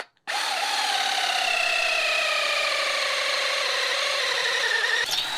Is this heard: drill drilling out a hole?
yes